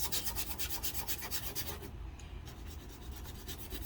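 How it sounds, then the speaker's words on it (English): Steady rhythmic rasping of a finger sander rubbed back and forth over wood to distress it, close by, with a brief lighter pause midway before the strokes resume. "I'm taking my little finger sander, but any sanding block will do, sanding paper"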